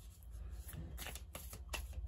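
A close, crisp riffle of tarot cards being shuffled, with quick papery bursts repeating a few times in a short stretch.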